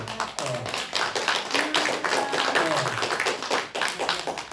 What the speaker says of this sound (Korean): 잠깐 일어나시면 박수로 환영하겠습니다.